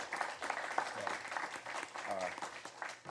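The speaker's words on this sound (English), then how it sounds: "please stand and accept a round of applause" Faint applause from a commission meeting audience honoring standing parents and family members, a steady patter of clapping with talk over it.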